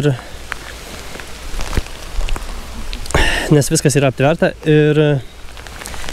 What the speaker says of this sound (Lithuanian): kadangi dabar lietus